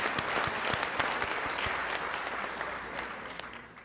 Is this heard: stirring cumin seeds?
no